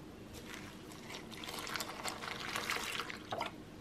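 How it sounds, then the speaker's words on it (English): Oat milk is poured into a bowl of granola, a soft, close, continuous trickle that grows slightly fuller as the bowl fills. "I'm gonna pour in some oat milk"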